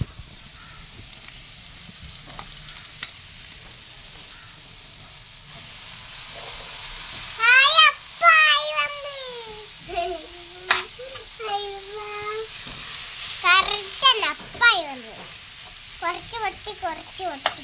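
Precooked macaroni is stirred in a hot pan with a constant hiss of frying, and a spoon or spatula repeatedly works through it, producing louder scraping and squeaking bursts over the sizzle.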